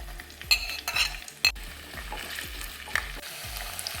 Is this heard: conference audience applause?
no